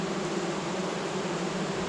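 Honey bees buzz around an open hive, a dense, steady drone of many insects that is close and fills the whole moment with no pauses.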